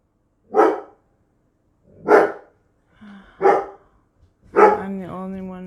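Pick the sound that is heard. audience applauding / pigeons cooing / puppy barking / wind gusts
puppy barking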